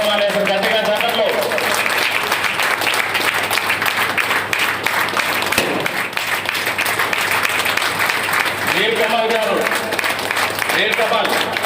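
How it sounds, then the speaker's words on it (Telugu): Loud, sustained applause from a gathered crowd follows a garlanding at a transport corporation retirement ceremony, with voices speaking over the clapping at times. "సార్కి పూలమాల వేసిన గట్టిగా చప్పట్లు."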